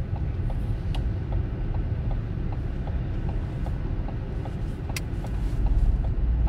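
A car engine hums and rumbles steadily during a driving lesson, with a low, continuous road drone and a faint regular ticking like an indicator, no talk.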